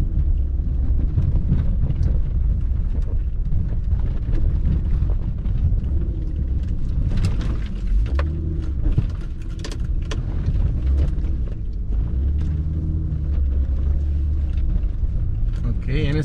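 Honda Ridgeline pickup crawling off-road in first gear with the VTM-4 lock engaged, a steady low engine and drivetrain rumble running throughout with wind buffeting on the microphone and occasional bumps.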